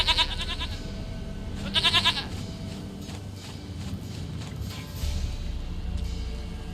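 Goats bleat in two short, wavering bursts in the Witcher 3 video game, near and fairly loud, with hoof clip-clops and low game ambience continuing between and after the calls.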